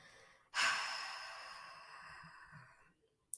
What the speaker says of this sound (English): Breathe in. 1, 2, 3. And breathe out.